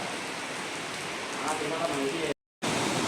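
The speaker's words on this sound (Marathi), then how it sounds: "छान पाऊस आला आहे" Steady heavy rain pouring down near Lonavala, a dense hiss on the surfaces nearby, with a brief cut of silence near the end.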